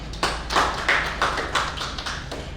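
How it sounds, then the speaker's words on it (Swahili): An audience at a celebration where a developer reopens its office and hands out title deeds gives a speaker a brief round of applause. A handful of distinct, fairly close claps sound at a loose, uneven rhythm. "Kumpigie makofi."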